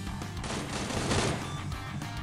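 Gunfire rattles in the battle royale game Knives Out as a dense, continuous burst of shots at moderate loudness, with no talking.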